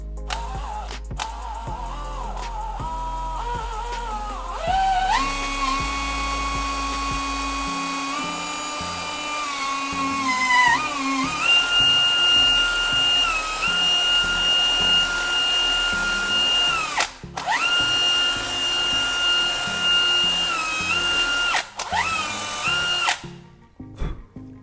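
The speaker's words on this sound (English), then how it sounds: "Next, I drill a hole in the bottom of the bottle." An electric drill whines steadily as it bores through the bottom of a plastic bottle, its pitch shifting up and down as the bit bites and frees, with no talking.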